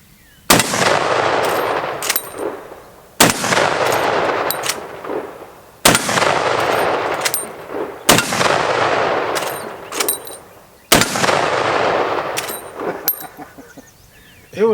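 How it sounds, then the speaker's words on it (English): A Henry .45-70 rifle fires five shots at a steel plate outdoors, each a sharp loud crack with a long rolling echo, spaced a few seconds apart. "Now I'm going to rock this plate with this 4570"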